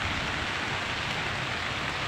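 Torrential typhoon rain falls during flooding in Lagarian, a thick, unbroken roar of water on surfaces. It stays loud and close throughout, with no talking.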